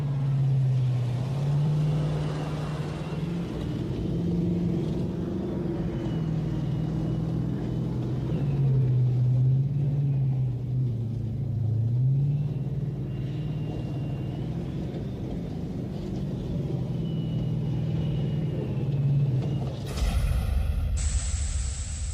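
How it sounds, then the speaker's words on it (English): An army vehicle with hydrogas suspension runs at full speed, its engine giving a steady, loud low rumble with slight pitch wavering throughout, then cutting abruptly near the end to a brief different noise. "With hydrogas suspension, the ride is surprisingly smooth, even at full speed."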